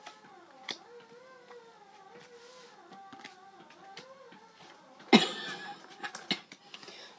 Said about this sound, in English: Sorry guys, I got a cough.